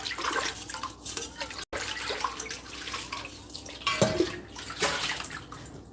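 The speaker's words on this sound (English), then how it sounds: "I like to wash out stuff first. So I'm gonna wash this out." A pot being rinsed out under a running kitchen tap before it is filled for cooking spaghetti, a steady close splash of water with a brief break and a few louder clunks and gushes, no talking.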